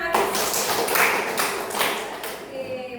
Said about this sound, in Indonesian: Ya, kasih tepuk tangan bagus.